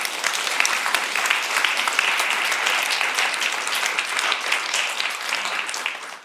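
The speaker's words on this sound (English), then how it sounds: "a huge round of applause" A panel discussion audience on conflict transformation gives a sustained round of applause, dense steady clapping from many hands filling the room with no speech over it.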